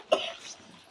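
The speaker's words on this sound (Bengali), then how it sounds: "কাশি হচ্ছে কেন তো?" A single sharp cough close by indoors, one brief burst followed by a short fading tail and quiet room tone.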